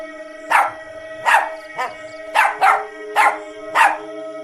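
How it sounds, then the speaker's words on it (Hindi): A dog barks seven times in a steady, spaced rhythm, loud and close, with a faint steady hum in the background. "चुड़ैल को देखकर भौंकने लगता है"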